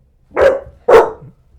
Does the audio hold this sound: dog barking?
yes